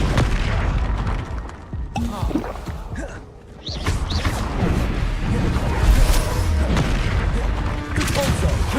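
Spell explosions from the Hogwarts Legacy video game: repeated loud booms and blasts with whooshing bursts, densely overlapping throughout with a brief lull partway.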